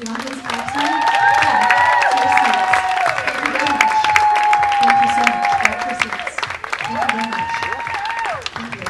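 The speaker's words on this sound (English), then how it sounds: "As the audience claps in." Audience applause and cheering at a live hypnosis stage show, a loud sustained wash of clapping filling the room, with voices and tonal sounds heard over it throughout.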